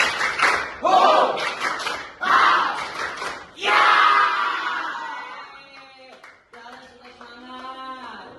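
A secondary-school class in Indonesia performs a rhythmic clap-along chant, with several loud bursts of shouting voices and patterned clapping in sequence, followed by a teacher speaking over quieter classroom noise.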